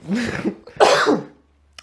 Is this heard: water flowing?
no